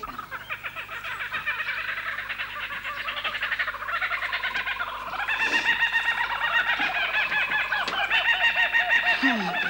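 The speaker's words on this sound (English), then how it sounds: "Oh, bloody birds." Chickens or turkeys squawk and cluck loudly in a barnyard chorus, overlapping calls rising and falling in an uneven rhythm close by, with no talking.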